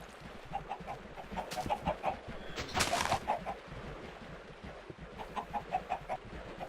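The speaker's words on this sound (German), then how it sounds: "Und jetzt da wären die Hühner" Minecraft chickens cluck softly in a steady run of short, repeated calls, fairly quiet against a faint game background with a brief louder burst midway.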